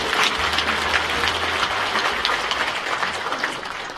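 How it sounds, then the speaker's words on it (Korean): Applause from the audience at an anniversary ceremony in a concert hall fills the room with a steady, dense wash of clapping that carries on evenly throughout. "강신면 총장께 큰 격려의 박수 부탁드립니다"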